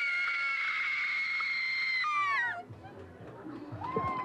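Horror-movie actresses let out a long, piercing high scream that holds for about two seconds and then slides down and breaks off, followed by quieter crowd noise and a brief rising shriek at the end.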